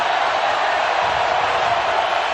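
A big stadium crowd at a Georgia versus Kentucky college football game, with Kentucky as the home underdog, holding a steady, dense roar of cheering and noise from start to finish with no break.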